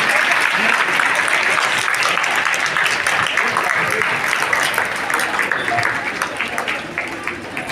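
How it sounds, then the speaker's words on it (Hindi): An audience applauds loudly to welcome a BJP candidate at an ashram reception, with continuous dense clapping that holds strong and gradually thins into scattered claps toward the end. "आप सब लोग जोरदार तालियों से सहरावत जी का हार्दिक अभिनंदन कीजिए"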